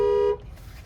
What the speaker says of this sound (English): I'm gonna honk the horn